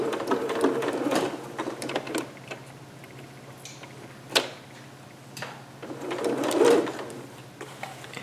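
A sewing machine stitches a 5/8 inch seam over pins in short quiet runs with a back stitch, amid soft clicks and handling noises at close range.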